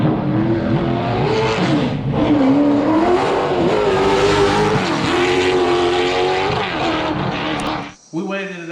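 A race car accelerates down the track, a loud close engine roar with rising and falling pitch across several gear changes, cutting off abruptly near the end.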